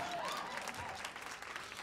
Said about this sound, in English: let's clap for me